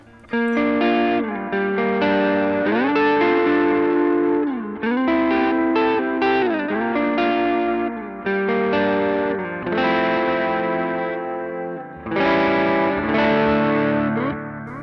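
Electric guitar chords and riffs with a shimmering chorus pedal effect and slight grit from a boost pedal, played alone in short repeated phrases.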